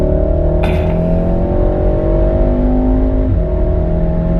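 A car accelerating hard on a race track, its loud engine droning steadily close up with one shift in pitch partway through, no voices.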